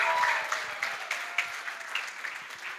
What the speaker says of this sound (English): Can the clap be please louder for the bride's father?